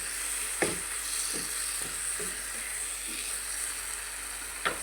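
Chicken fries in a well-cooked spice masala for a home-style chicken curry, giving a close, even sizzle with a few sharp stirring knocks and crackles and no speech.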